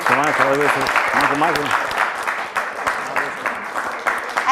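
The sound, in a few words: studio audience applause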